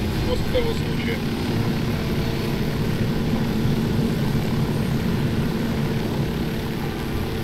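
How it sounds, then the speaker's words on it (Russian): Rotor helicopter departing in Tom Clancy's Ghost Recon Wildlands, a steady dense engine and blade drone holding at constant loud level throughout, with someone talking over it. "Я возьму этот вертолет и улечу туда, куда глядят мои глаза"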